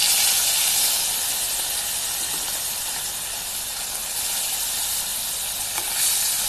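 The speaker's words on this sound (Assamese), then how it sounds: "এতিয়া বেলেগ এখন কেৰাহীত মাছকেইটা ভাজি লওঁ।" Fish frying in a wok for an Assamese fish curry with curry leaves, a loud, dense, continuous hissing sizzle that holds steady throughout, with no voices.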